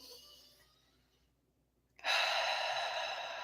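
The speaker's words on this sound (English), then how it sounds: "just take a breath in and out" Slow deep breathing during a guided breathwork session, a long fading exhale, a short silent pause, then a strong steady inhale, close and alone.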